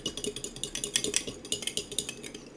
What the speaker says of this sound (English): So I'm just going to whisk this together.